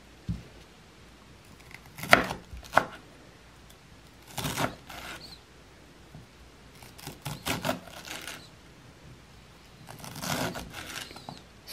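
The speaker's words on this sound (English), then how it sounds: "We're going to chop it coarse" Fresh garden dill being coarsely chopped with a knife on a board, a few clusters of crisp, sharp cuts separated by quiet pauses, close and fairly soft.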